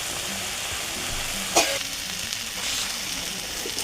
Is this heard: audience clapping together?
no